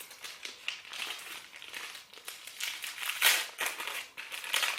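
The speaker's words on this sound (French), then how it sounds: "attendez, je vous le déballe" Crinkling packaging is pulled open around a Lush Outback Mate soap bar, a close, irregular series of rustles and crackles with short pauses between them.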